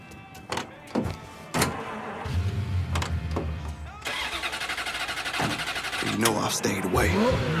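In Mafia III, a car door clunks shut with a few sharp knocks, then the engine cranks and catches and settles into a steady mid-pitched idle and rumble as the car pulls away.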